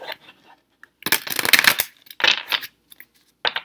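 Angel cards handled and dropped, with a few soft flicks followed by a loud, rapid riffle of cards slapping together, then more shuffling bursts, close up and with no talking.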